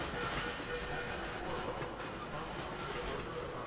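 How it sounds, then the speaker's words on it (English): A train rumbles past in the steampunk stealth game Dishonored, a steady, dense roar held at a constant level and fairly faint in the mix, with a player's voice faintly underneath. "Train."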